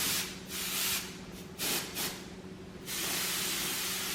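Compressed air can spraying in a few sharp hissing bursts, then one longer sustained blast, close and fairly quiet.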